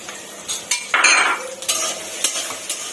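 Onions frying in oil in a kadai for spring roll filling give a hissing sizzle, broken by a few clinks and scrapes of a utensil against the pan, close and without voices.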